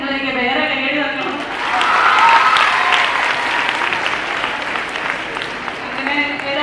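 A college audience at a celebrity talk breaks into loud, sustained applause that swells and then holds steady, following a speaker's voice at the start.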